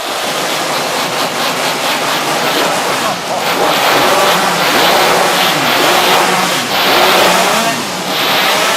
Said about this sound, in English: Warm up your saw.